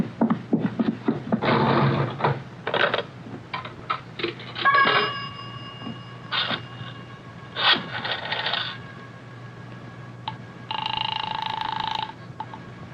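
A pay telephone in use for an emergency call: coins clink and drop into the slot, the receiver rattles, and several bursts of ringing and line tones sound close up with no talk.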